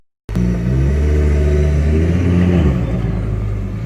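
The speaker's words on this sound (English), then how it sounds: "you can hear that engine, it sounds quite nice on a cold start" Mk2 Ford Focus ST engine firing up from a cold start, catching abruptly and settling into a loud, steady, close rumbling idle with a slight rise and fall in pitch midway.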